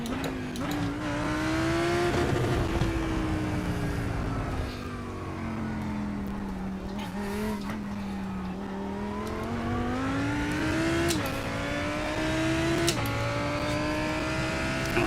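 Race car in a racing game on a qualifying lap at Spa, its engine droning loud and steady as the pitch climbs and falls through gear changes, with occasional sharp clicks and a faint tire squeal.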